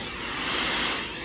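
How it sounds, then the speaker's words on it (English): Mini solar speaker switched to radio mode, giving a short burst of even, soft hissing static with no tone or voice. "And you're going to hear the static."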